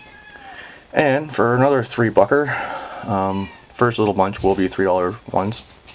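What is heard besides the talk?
cat whining behind a closed door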